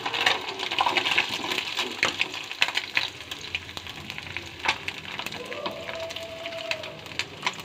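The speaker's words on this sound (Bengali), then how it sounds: "এই মাছটার এক পিঠ মোটামুটি ভাজা হয়ে যাচ্ছে, আর একটু ভাজা হবে।" Mourala fish frying in hot oil, a steady crackling sizzle with faint pops and spatters throughout, close and moderately loud, no voices.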